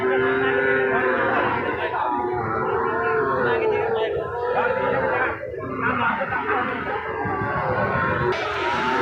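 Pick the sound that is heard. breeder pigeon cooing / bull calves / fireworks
bull calves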